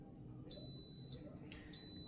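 An Instant Pot pressure cooker beeps as its countdown finishes: two long steady electronic tones with a short break between them, clear over a quiet room hum.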